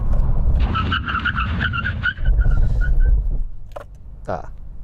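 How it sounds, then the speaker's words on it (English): A Nissan GT-R R33 brakes hard from 60 mph, tires squealing in a wavering, pulsing whine over engine and road rumble for about three seconds before fading, with brief chirps after and talk from a passenger during the stop. "Okay, brake test in the R33 from 60 miles an hour."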